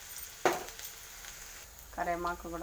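Green chilies go into hot oil in a home kitchen pan, a faint sizzle that flares briefly, with quiet speech after.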